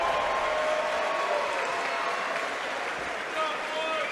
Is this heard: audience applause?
yes